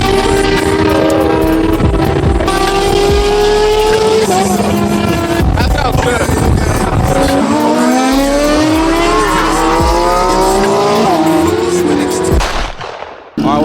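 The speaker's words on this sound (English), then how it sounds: "We're warming up the cars real quick" Several cars idle and rev loudly at close range early on a Sunday morning before a car meet, with dense harmonic engine drone, pitch swells and horn-like tones running throughout, then cutting off abruptly near the end.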